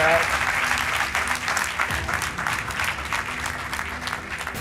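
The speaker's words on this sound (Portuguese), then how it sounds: "Apostas feitas, um aplauso para eles." Studio audience on a television quiz show applauding contestants, steady dense clapping throughout at a lively level, slightly easing toward the end.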